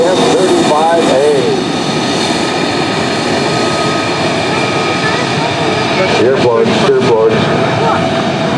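An F-35A fighter jet passes at the Joint Base Andrews Air and Space Expo air show, a steady loud jet roar filling the air, with a public-address announcer speaking over it.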